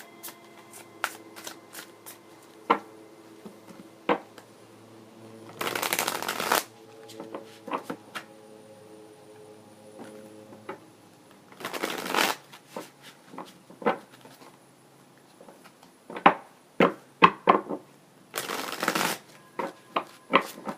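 Tarot cards are shuffled in three short riffling bursts, separated by scattered taps and soft clicks of handling in a quiet room.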